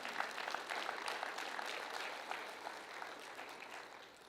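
Church congregation applauding during a sermon, a sustained spread of clapping that swells early and then tapers off slightly, fairly quiet and distant.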